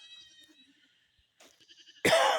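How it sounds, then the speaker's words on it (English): A lost baby goat bleats on a homestead, several thin, wavering cries at moderate distance, followed by a loud burst of noise at the end. "What you hear in the background is one little baby goat"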